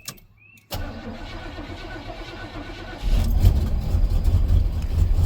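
Old Chevrolet car engine cranking and catching after a near-silent moment, settling into a rough idle, then roaring louder as the throttle opens; the engine is short on fuel and running on about five cylinders.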